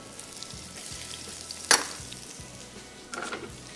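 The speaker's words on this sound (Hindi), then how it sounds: "सबसे पहले इसमें शामिल करेंगे अदरक लहसुन, इसको थोड़ा सा किया फ्राई" Ginger and garlic fry in a pan with a soft, continuous sizzle, broken by a sharp utensil clink midway and a brief burst of stirring near the end.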